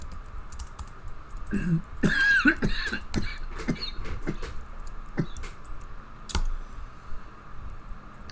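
A brief cough or throat clearing amid scattered keyboard typing and clicks, close and moderately loud, with no speech.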